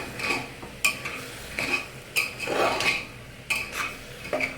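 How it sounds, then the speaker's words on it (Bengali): A spoon scrapes and clinks against a pan while chana dal with vegetables, salt and turmeric is stirred and fried, giving repeated rhythmic strokes with light sizzling underneath. "এখন এটা ভালো করে নেড়ে চেড়ে ভেজে নেব।"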